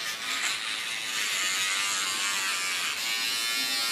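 Steady high-pitched buzz of an electric toothbrush running continuously up close, with slight shifts in tone as it moves.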